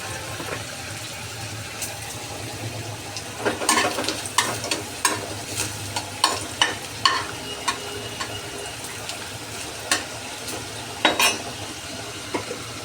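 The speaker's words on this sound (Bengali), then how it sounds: "এখানে মাছের ঝোল হচ্ছে।" Fish curry simmering in a pan, with a steady low bubbling bed broken by a run of sharp clinks and scrapes of stirring in the middle and near the end, close by, with no one talking.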